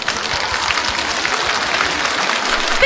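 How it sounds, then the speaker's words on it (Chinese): Dense, steady applause from a large theatre audience at a televised Yue opera centenary gala, sustained at an even loudness for the full stretch with no voices on top. "我们掌声欢迎"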